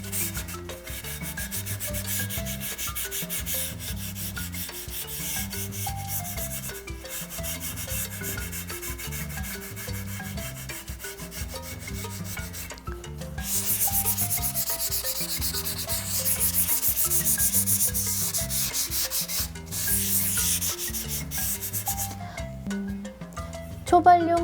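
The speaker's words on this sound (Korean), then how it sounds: "그 부분을 동봉된 사포를 이용해서 이렇게 밀어주시면 됩니다" Sandpaper rubbing the edges of a bisque-fired ceramic plate, a close rhythmic scratchy scraping repeated in quick back-and-forth strokes over a long stretch, with a few pauses and someone talking quietly at times.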